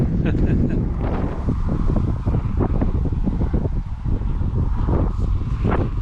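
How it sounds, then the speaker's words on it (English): Strong wind buffets the microphone in loud, rumbling gusts on an open roadside west of Winnipeg, with flapping and rustling throughout. "Still crazy windy, but I won't complain."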